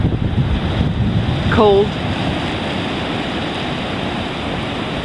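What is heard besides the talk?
ocean waves and wind on a winter beach, Emerald Isle, North Carolina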